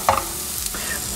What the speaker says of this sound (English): Stir this about 3 to 5 minutes, depending on how you like the texture of your cauliflower rice